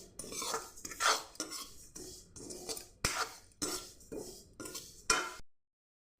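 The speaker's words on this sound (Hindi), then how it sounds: "अब मैं जीरे को भूनने जा रही हूँ।" Cumin seeds dry-roasting in a pan for stuffed red chilli pickle, a series of close scraping and clinking stirs against the metal pan in an uneven rhythm, then abrupt silence at the end.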